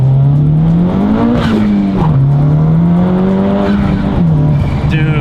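A Honda Civic Type R FK8 with an upgraded turbo accelerates hard, its engine note loud and close, rising and dipping through revs with a strong tonal drone for a few seconds.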